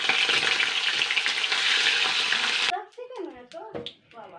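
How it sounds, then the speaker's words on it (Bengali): Hilsa fish pieces frying lightly in hot oil, a loud dense sizzle that stops abruptly partway, then close-up talking takes over. "এবার আমি হালকা করে কিন্তু আমি জাস্ট 1-2 মিনিট করে আমি ভেজে নেবো, এপিট ওপিট করে।"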